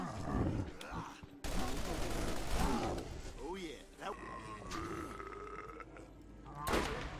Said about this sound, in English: The fire rate is so fast that my sound is cutting out.